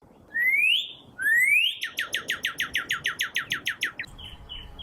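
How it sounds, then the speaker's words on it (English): A cardinal sings outdoors in the morning: two rising slurred whistles, then a rapid series of about a dozen loud, clear repeated chip-whistles, close and alone. "I hear cardinals every morning"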